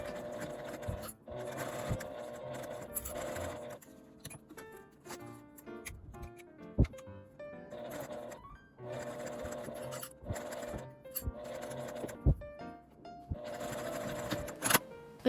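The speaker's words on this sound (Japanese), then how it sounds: "こちらも留め具から留め具まで縫います" A sewing machine stitches a small fabric round pouch in repeated bursts of fast, rattling needle strokes, pausing between runs, close and clear with no talk.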